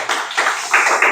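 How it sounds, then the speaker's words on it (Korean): A short burst of audience applause after a speaker asks for it, with several swelling waves of clapping over about a second, close and fairly loud. "박수 한번 주세요."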